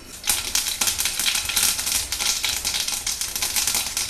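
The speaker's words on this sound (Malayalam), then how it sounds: "കടുക് പൊട്ടിക്കഴിയുമ്പോൾ" Mustard seeds crackle and pop in hot coconut oil in a kadai, a dense, rapid, continuous patter of sharp little bursts, loud and close.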